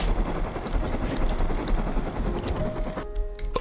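A helicopter in the survival video game Rust fills the scene with a continuous loud rotor drone and engine whine that cuts sharply near the end.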